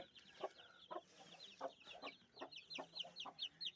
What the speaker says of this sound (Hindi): दीपू भाई की मुर्गी यहाँ से छिड़ी जा रही है।